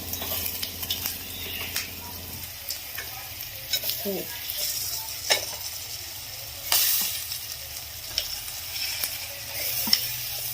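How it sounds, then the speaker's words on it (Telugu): Pieces of fish drop into a hot pan for a Telugu-style tamarind fish curry and sizzle steadily, with stirring and scrapes of a utensil against the pan throughout and a low hum underneath. "ఇప్పుడు ఇవి చేప ముక్కలు మనం వేసేద్దాం చూసారా"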